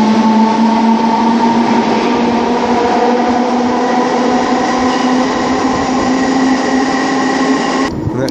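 An electric Merseyrail commuter train at the underground Moorfields station hums steadily with a low electric drone and rumble, heard close up and continuous, ending with a sudden drop near the end.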